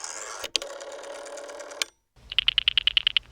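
An old-fashioned telephone bell rings in a radio drama, a rapid series of metallic trills after a short stretch of clicks and line noise, close and fairly loud with no voices.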